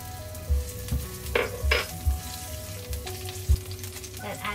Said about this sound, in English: Begin by frying in your garlic.